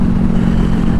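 Honda CBR500R motorcycle engine on a night ride at speed, a steady loud droning hum with a strong low harmonic, continuous and close throughout.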